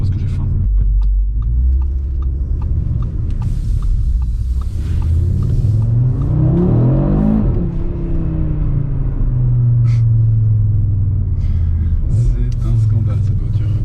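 Engine of a 2022 Audi RS3 revving, a loud, steady low rumble with a rising and falling sweep mid-clip, continuous throughout with no pauses.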